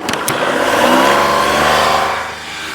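A used low-budget diesel car engine revs up close and loud, swelling through a strong throaty rise, then drops back toward idle, with no voices.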